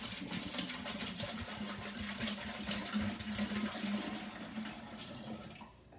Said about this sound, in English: So now we're gonna fill up our Berkey.